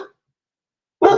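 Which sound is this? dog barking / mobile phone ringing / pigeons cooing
dog barking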